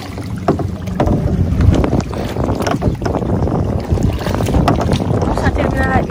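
A small paddle boat out on the sea off Spain, with steady splashing and sloshing of water under heavy wind buffeting the microphone throughout.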